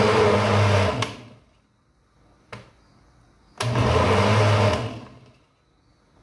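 A kitchen blender whirs in two loud bursts of about a second and a half each, blending kale with lemon juice, with a sharp click between them and near-silent pauses after each stop.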